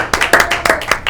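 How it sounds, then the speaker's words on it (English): A small studio audience at a local talk show claps for a guest, a handful of sharp, distinct claps in an uneven rhythm, close and fairly loud over about a second. "you get a round of applause."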